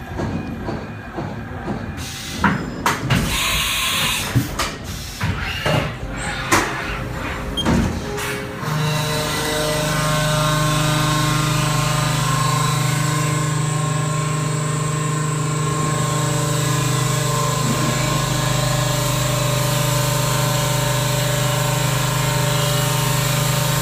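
A CNC mill cuts along a high-speed toolpath with rapids at full speed, loud and continuous; uneven clatter and knocks in the first seconds settle into a steady, sustained spindle-and-cutting drone with a strong low hum.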